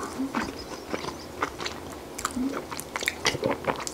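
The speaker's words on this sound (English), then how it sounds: "The outsides are a little bit kind of crunchy, but let me take another bite." Crunchy chocolate chip cookie from Subway being bitten and chewed up close, with repeated crisp crunches and soft mouth sounds in a steady chewing rhythm, no talking.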